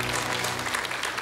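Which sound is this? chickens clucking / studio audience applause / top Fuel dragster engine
studio audience applause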